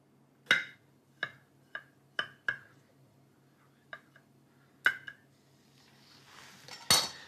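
A knife and cutlery knock against plates in a chef's kitchen, with a scattered series of sharp clinks and ticks at uneven intervals and a brighter clatter at the end, close and clear in a quiet room.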